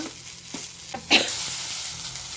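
Chillies and a few fenugreek seeds dropped into hot ghee in a pan for chutney, giving a steady soft sizzle with small stirring taps and one sharper hiss partway through, close by with no talking.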